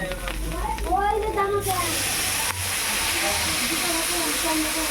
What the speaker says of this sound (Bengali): এবার দিয়ে দেব জল।